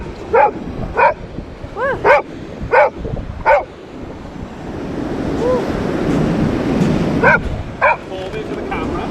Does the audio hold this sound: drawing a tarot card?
no